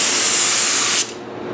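A K2 activator spray gun sprays in a loud, steady, close hiss that cuts off abruptly, and a fainter residual hiss follows.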